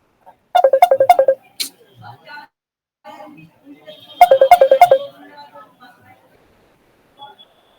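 A mobile phone ringtone plays two loud bursts of rapid repeating notes a few seconds apart. A voice speaks faintly between the bursts.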